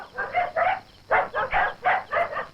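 A dog barks in a rapid series of about eight short, loud, close barks grouped in quick bursts.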